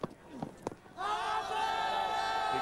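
A big crowd at a 1998 West Indies v England Test match in Barbados erupts into sustained, loud cheering and roaring after a wicket, following a few brief knocks and thuds. The noise swells suddenly and holds steady to the end.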